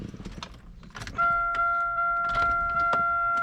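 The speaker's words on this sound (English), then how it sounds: "Y'all can actually hear the regulator." A power window motor on a car door with a suspected bad regulator starts after some clicks and key rattling, then hums steadily and close with a whine for several seconds, without talking.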